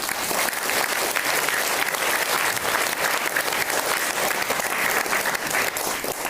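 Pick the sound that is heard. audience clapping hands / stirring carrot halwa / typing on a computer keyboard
audience clapping hands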